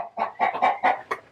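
Several short clucking bursts from chickens, fairly close, coming in an uneven rhythm with brief pauses between calls.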